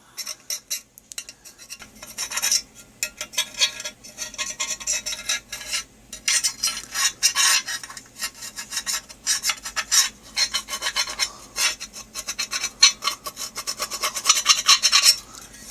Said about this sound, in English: I'm just taking a little screwdriver to it